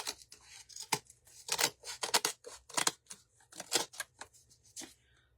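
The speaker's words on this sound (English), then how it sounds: "Let me go ahead and cut our fabric off." Scissors snipping through homespun fabric for a Christmas craft, a series of close, crisp cuts in quick irregular rhythm against a quiet background.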